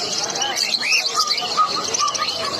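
Owl finches and golden finches at the Tala bird market in Kolkata, a busy overlapping chorus of high thin chirps and tweets, fairly close and continuous, with faint human voices underneath.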